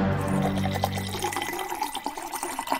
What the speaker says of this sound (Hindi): बोतल खोल